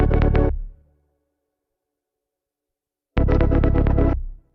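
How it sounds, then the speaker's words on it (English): Sidechained synth chord passed through an internet-codec compression plugin for a crisp, gritty edge, heard as two short pumping bursts separated by about two seconds of silence. "I'm using Codec to basically add a little bit of crispiness, just a bit of edge to the sound."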